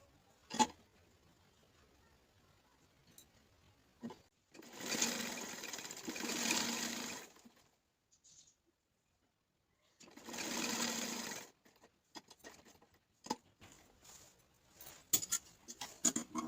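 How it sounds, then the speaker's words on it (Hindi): A sewing machine stitches a coat collar neck on a shirt in two clear bursts of rapid, even whirring, separated by a pause and surrounded by quiet handling clicks and fabric rustles, with no talking. "सबसे पहले मैं यहाँ से इसकी स्टिचिंग शुरू करती हूँ।"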